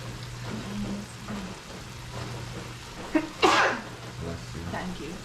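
A single sneeze bursts out sharply partway through, close and loud, in a kitchen where black beans are being prepared, with faint voices and low background hum around it.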